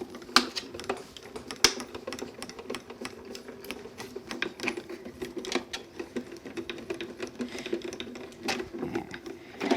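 A manual die-cutting machine is cranked by hand to feed a cutting plate sandwich with card and a poppy frame die through the rollers, giving a steady run of close ratcheting clicks and creaks with no talking.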